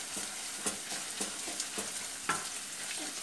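Chopped onions and garlic sautéing in olive oil in a pan, a steady soft sizzle punctuated by several sharp scrapes and taps of a spoon stirring, close and without talk.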